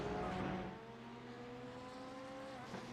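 A Mercedes AMG GT3 race car at Laguna Seca in iRacing, its engine a steady tonal drone with shifting pitch, fairly faint and continuous, with no talk over it.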